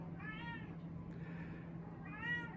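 Indoor house cat meowing to be let outside in cold weather, two plaintive meows about two seconds apart, close but soft over a steady low hum, with no speech.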